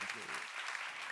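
A church congregation claps along in a brief, quiet burst of applause, with voices mixed faintly beneath the clapping.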